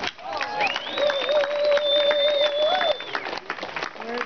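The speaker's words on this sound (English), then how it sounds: "And you deserve a round of applause." An audience applauds in a hall, crowd clapping and cheering running steadily underneath a loud, sustained whistle or feedback-like tone that later fades, with the clapping thinning toward the end.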